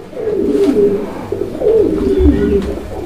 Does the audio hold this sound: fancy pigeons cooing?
yes